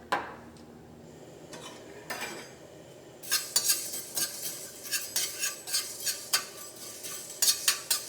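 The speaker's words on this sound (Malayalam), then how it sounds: "ഉലുവ നമുക്ക് എണ്ണയില്ലാണ്ട് വറുത്തെടുക്കാം" Fenugreek seeds dry-roast in a pan without oil while being prepared for mango pickle. They give soft, rhythmic scraping and rattling stirring strokes that grow busier partway through, close and fairly quiet, with no talking.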